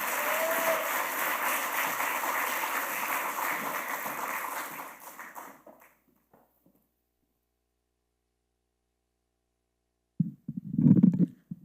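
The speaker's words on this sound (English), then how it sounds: "welcome to the stage with a very warm round of applause," Audience applause at a youth poetry event in Lahore welcoming a poet to the stage, a steady crowd clapping that fades out after about five seconds, followed by silence and then a short, close burst of low sound.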